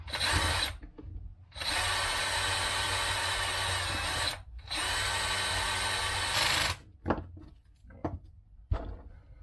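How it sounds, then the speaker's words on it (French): A power screwdriver set to minimum torque drives screws while an LC Racing EMB-T 1/14 RC car kit is assembled: two long whirring runs, then shorter bursts and a few clicks of parts being handled. "le couple est serré au minimum sur la visseuse"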